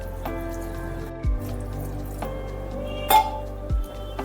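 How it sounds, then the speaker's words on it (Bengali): Water is poured from a vessel over chopped banana flower (mocha) in a pot set to boil for lentil dal, with soft splashing, a few dripping sounds and light metallic clinks, close and alone. "পরিমাণ মতো জল দিয়ে দিচ্ছি।"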